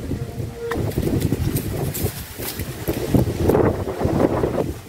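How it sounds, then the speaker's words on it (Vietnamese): Strong gusting wind buffets a small fishing boat out checking nets in stormy rain, a loud continuous roar with microphone rumble and patter, while people speak faintly in the background. "Quá gió luôn."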